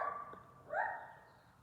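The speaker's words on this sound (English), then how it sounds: "Ignore the angry dog outside." A dog outside gives one drawn-out, angry bark or yelp that rises in pitch, heard alone at moderate distance with no talking.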